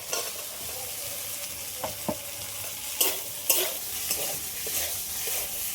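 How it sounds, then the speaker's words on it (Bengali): Fried potatoes stirred into a sizzling spice masala with tomato in a pan, a constant frying hiss broken by several scraping and clinking strokes of the spoon. "আলুটা তো মশলার সাথে ভালো করে কষিয়ে নিলাম"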